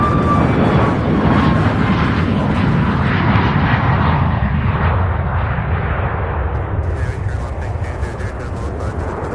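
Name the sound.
Boeing 737 MAX 8 airliner departing to Denver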